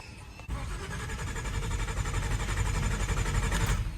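A Nissan Skyline R33 engine cranks without starting, a steady rhythmic whirring starter churn beginning abruptly and running continuously for several seconds, close and fairly loud.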